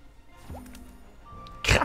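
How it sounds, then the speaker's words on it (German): A magic grenade spell effect from the fantasy battle game Battlehand: faint watery drips and squelches, then a short, loud, bursting splash near the end. "Zaubergranate."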